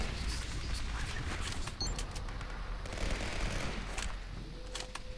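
Gunfire in the video game Legendary, a dense, continuous spray of shots and clatter sustained throughout, with no clear gaps between bursts.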